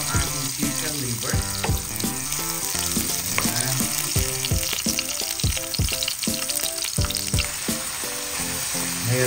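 Chicken liver sautes with garlic, onion and ginger in a hot pan, giving a loud, dense, continuous sizzle with stirring clatter throughout and a steady musical tone underneath.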